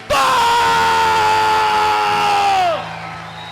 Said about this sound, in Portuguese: aplauda o poderoso evangelho de nosso Senhor Jesus Cristo